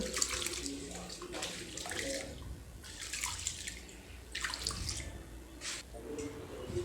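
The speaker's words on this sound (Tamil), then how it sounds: "நல்லா வாஷ் பண்ணிவிட்டேன் ரெண்டு மூணு தண்ணி ஊற்றி" Ration rice is washed by hand under tap water in a kitchen sink, with running water, splashing and dripping in uneven bursts, fairly quiet and close.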